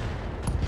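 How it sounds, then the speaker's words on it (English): LRM-10 long-range missile launcher firing in the mech combat video game BattleTech, a dense, loud burst of rapid overlapping launches and blasts lasting under a second. "We're just gonna fire the LRM-10 in here."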